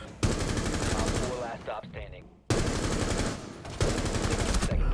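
Rapid automatic gunfire from the Rainbow Six Siege video game plays in two loud sustained bursts, with a brief pause between them.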